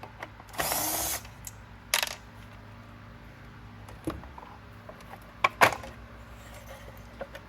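Power tool backing out the motor mounting screws of a Riccar Supralite vacuum, heard as a short loud whir and a brief second spin, followed by scattered metallic clicks and a small clatter like a screw dropping.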